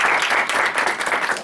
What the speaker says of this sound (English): So let's give them one last round of